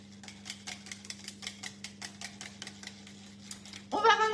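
Clafoutis batter with salsify being mixed in a bowl, quick rhythmic tapping strokes of a utensil against the bowl over a steady low hum, soft and close, followed by a brief voice at the end.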